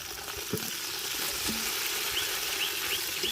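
Chopped coriander sautéing with onions in hot oil for a beef nalli biryani, a continuous close sizzle with a few soft stirring knocks and scrapes.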